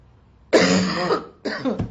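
A person lets out two harsh, raspy coughs close to the microphone, the first longer and the second shorter.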